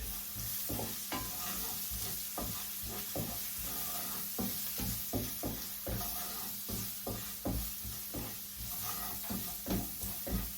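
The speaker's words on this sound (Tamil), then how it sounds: "போட்டுட்டு இதை நான் வதக்கி எடுக்க போகிறோம்" Onions with curry leaves and spice powder fry in a pan under a constant sizzle, while a spoon stirs them in a steady rhythm of close, repeated scraping strokes.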